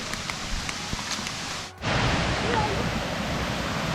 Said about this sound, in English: I thought this was a small waterfall and it's not as small as I thought